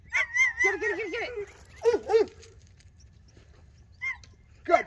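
An excited dog barks and yips in quick bursts during play, with whiny rising cries, a pause, then a couple more sharp barks close to the microphone.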